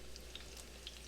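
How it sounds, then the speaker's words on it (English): Soft, quiet sizzling of hash brown potatoes frying in a pan, a faint steady crackle with a few brighter pops, no talking. "The potatoes are frying on the second side, so they're almost done."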